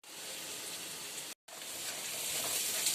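Onions frying in mustard oil in a pan, a steady close sizzle broken by one brief silent gap before resuming slightly louder, with no talking.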